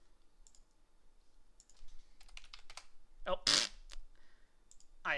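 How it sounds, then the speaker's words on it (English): Clicking and typing on a computer keyboard during a tabletop role-playing session, scattered clicks and bursts of keystrokes close by, with brief speech and a louder rustle midway. "I'm clicking the button."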